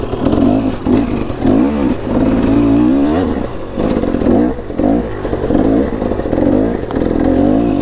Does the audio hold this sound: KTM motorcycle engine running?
yes